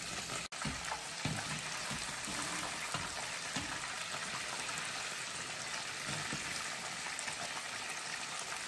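Cod fillets deep frying in hot oil, a steady dense bubbling sizzle that stays close and continuous, with a brief knock near the start.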